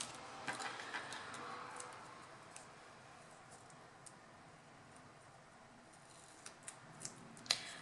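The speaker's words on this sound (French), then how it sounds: "c'est un peu fastidieux de couper des tout petits morceaux" Scissors snip small pieces of double-sided tape in a quiet room, making faint scattered clicks and short cuts, with a few sharper snips near the end.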